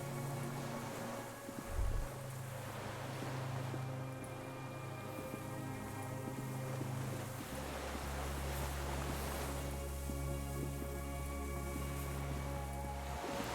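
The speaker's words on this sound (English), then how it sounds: "The distant sound of cargo ships, signal horns echo on the water." Distant cargo ships and signal horns across the water in Disco Elysium, heard as long, steady low tones that hold and shift over an ambient bed of harbour wind and surf.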